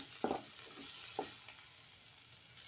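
Ingredients for an Ayila fish curry sauté in a pan with a quiet steady sizzle, broken by a few soft scraping stirs near the start.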